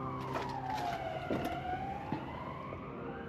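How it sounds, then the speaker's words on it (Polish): Distant sirens wail with a slowly sweeping pitch, steady and moderately faint beneath low traffic rumble. "W oddali słychać syreny."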